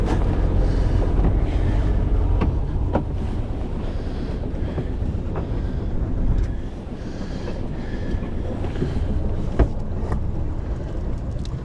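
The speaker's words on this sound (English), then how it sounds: "We've got to say, we turn the engine off, we're sailing." A sailboat under sail with its engine off on the Solent, a steady rush of wind and water past the hull, blustery microphone buffeting throughout, with no voices.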